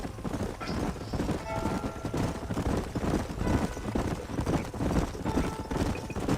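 Horses walk in a Western canyon in the Red Dead Redemption video game, their hooves clip-clopping in a steady, unhurried rhythm at moderate volume beneath light background ambience.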